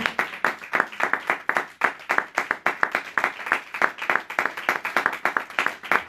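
A church congregation at a French-language service claps in a lively, rhythmic burst, with sharp repeated hand claps in a fairly regular beat filling the room throughout.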